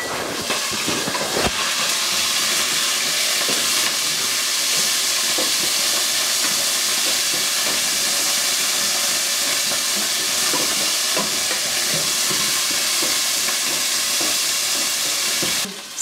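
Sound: meat frying in hot oil in a pot

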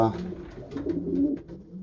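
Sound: pigeons cooing

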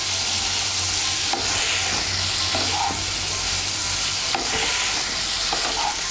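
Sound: stirring cauliflower and spices frying in a pan

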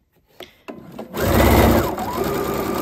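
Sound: sewing machine stitching a curtain hem

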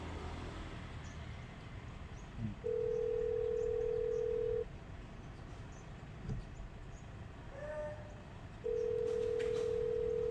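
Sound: phone call ringing out

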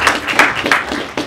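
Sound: applause from audience

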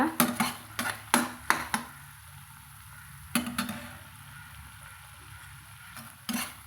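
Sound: stirring crushed cinnamon and fennel into hot oil in pan

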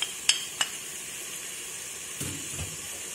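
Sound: chopped onion and bell pepper frying in a pan

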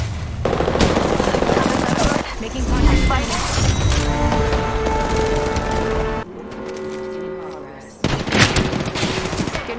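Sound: gunfire in the video game Apex Legends

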